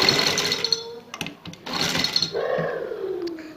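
A sewing machine stitches a cutwork neck design on fabric, running in close, loud whirring bursts with brief pauses and mechanical clicks between the runs.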